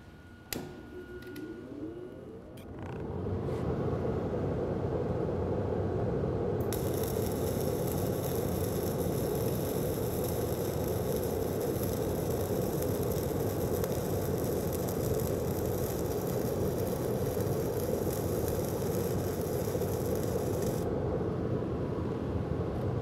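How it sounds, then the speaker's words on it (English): Self-shielded flux cored arc welding run on DC positive, the wrong polarity, producing a loud continuous crackling, sputtering arc for about eighteen seconds after a few short strikes, then cutting off. "So I'm going to demonstrate a weld on the wrong polarity, which we're going to run it on DC positive"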